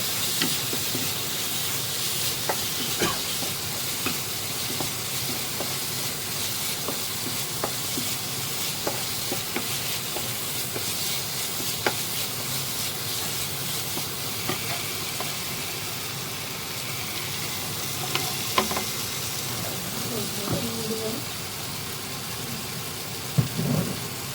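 Chopped tomatoes sautéing with spices in a pan, a steady loud sizzle and hiss running throughout with occasional scrapes and taps of a stirring spoon, no voices.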